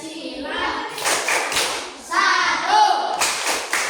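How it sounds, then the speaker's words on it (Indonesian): Children clap along in a rhythmic Pancasila symbol clapping game, with bursts of claps and thumps in a short pattern while young voices chant together over the beat. "Tepuk lambang Pancasila."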